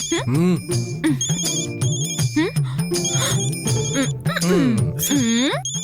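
A mobile phone ringtone plays in a Hindi TV serial scene, a bright repeating electronic melody that runs for several seconds under loud, animated voices and music.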